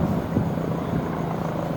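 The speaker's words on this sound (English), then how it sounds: "The Global Ranger, a joint American-Korean designed long-range chopper." A Global Ranger, a long-range military helicopter of joint American-Korean design, arriving: a steady, low rotor and engine drone that holds at constant loudness throughout, with no voices.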